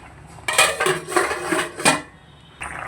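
A metal lid is set onto a cooking pot of taro and prawn curry, giving a few close clattering clanks and rattles over roughly a second and a half, with brief quiet between.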